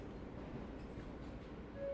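Steady low rumble of a metro train in motion, heard from inside on a hard plastic seat, faint and continuous with no talking.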